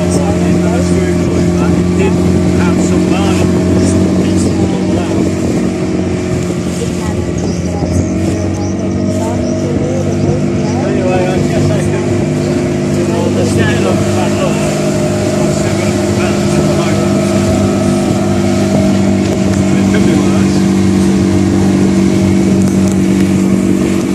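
Sailing yacht running on the water, with a steady engine drone and broadband wash of water and wind throughout, constant and close with no clear changes.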